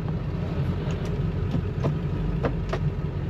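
A 2003 Ford Excursion Limited with a 7.3L Powerstroke diesel and 4WD idles steadily nearby, a low, even engine rumble with a few faint clicks over it.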